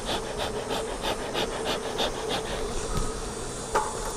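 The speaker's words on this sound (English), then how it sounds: "bees were showing signs of getting a little protective" Honey bees buzzing steadily around an opened beehive during a beginner beekeeping inspection, a dense continuous drone with individual bees passing close by and a brief knock near the end.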